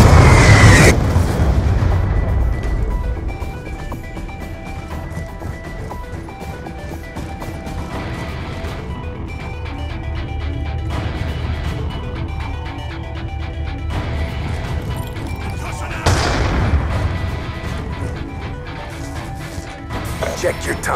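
A Hellstorm missile explodes during a Search and Destroy match in Call of Duty: Black Ops II, with heavy booming impacts and crashes over a loud, dense game mix, and bursts recurring through the passage.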